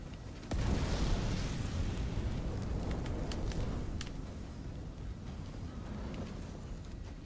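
A roaring turbine of fire in a video game, a loud sustained whoosh kicking in suddenly and rumbling steadily for several seconds, broken by a few brief crackles.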